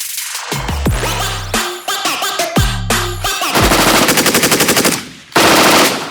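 A Heckler & Koch MG4 machine gun fires several loud, close bursts of rapid shots, the later bursts longer and denser, with sharp echoing decays between them.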